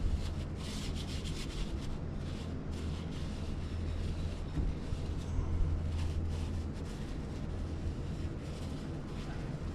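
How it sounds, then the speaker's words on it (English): Emery cloth rubs lightly over a Morris Minor cylinder head in a steady, soft scratching rhythm, close by and faint over a low background hum. "We're going to go over it very lightly with some emery and the cylinder head"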